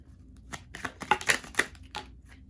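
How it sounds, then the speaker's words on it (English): Tarot cards are shuffled by hand for a reading, giving a quick run of soft papery flicks and taps, close and steady, with no talk. "Let me give it one more little shuffle."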